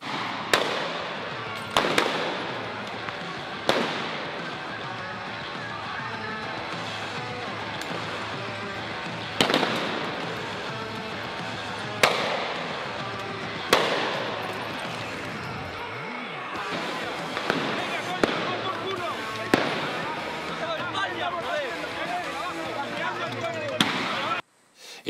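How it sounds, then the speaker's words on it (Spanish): Rubber bullets fired by police at protesters in a street, sharp loud bangs repeating at irregular intervals over a noisy crowd background. "jóvenes impasibles ante los disparos de las pelotas de goma"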